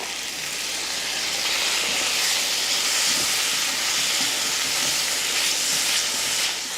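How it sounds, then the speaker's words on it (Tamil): Coconut milk simmers in a pan with a steady, broad hiss and faint bubbling that persists evenly throughout, close by and fairly loud. "தேங்காய் பால் ஊற்றி லைட்டாக இந்த மாதிரி கொதிக்க விட்டதுமே"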